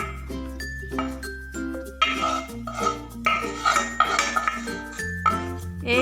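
A metal spoon scrapes and clinks against a wok and a bowl while cooked fish with shewali flowers is served out, giving irregular close ringing knocks and scrapes, with background music throughout.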